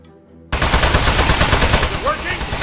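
Sustained rapid gunfire in the video game Aperture Desk Job, a dense, loud burst that starts abruptly and runs continuously to the end, with brief electronic chirps mixed in.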